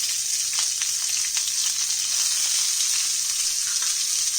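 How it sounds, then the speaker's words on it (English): Sliced capsicum and onions saute in oil in a kadai over high flame, giving a steady, close, continuous sizzle with faint stirring scrapes, no voices. "Saute this on high flame till it's wonderfully charred."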